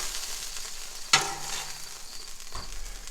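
Sausage sizzles and fries steadily on a hot Blackstone griddle. There is a sharp clank of a spatula partway through and a faint second scrape later.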